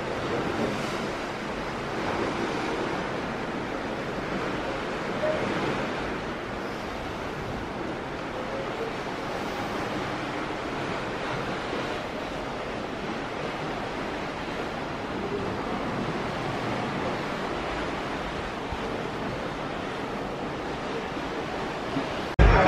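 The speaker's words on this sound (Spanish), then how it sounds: "me voy a callar un poco para que oigáis el sonido del mar y veáis el atardecer" Sea waves heard from the deck of the cruise ship Costa Smeralda at sea make a steady, broad rushing wash with wind buffeting the microphone, continuous and fairly loud throughout.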